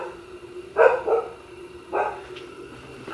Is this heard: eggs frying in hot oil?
no